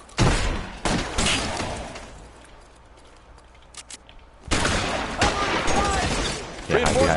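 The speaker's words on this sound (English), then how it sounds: "Someone has a machine gun." Bursts of rapid machine gun fire in the crime shooter LA Noire, loud dense volleys at the start and again after a quieter stretch with scattered single shots, with some talking.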